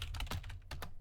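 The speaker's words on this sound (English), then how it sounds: "Sorry for the violent sounding typing" Heavy, forceful typing on a computer keyboard during a digital art session: a rapid, close burst of loud key clacks with a brief pause near the end.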